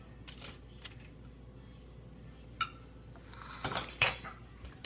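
Cutlery clinks and taps against a dish as sliced flank steak is plated, a handful of sharp metallic knocks scattered over a quiet background with a small cluster near the end.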